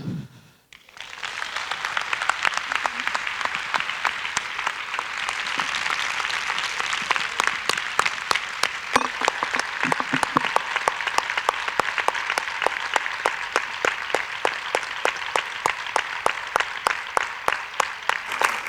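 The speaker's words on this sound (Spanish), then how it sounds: "no os ha visto aplaudiendo, pero sí os lo ha escuchado." A round-table audience at a school-themed panel event claps steadily for nearly twenty seconds, dense, sustained applause filling the room with sharp individual claps standing out near the end.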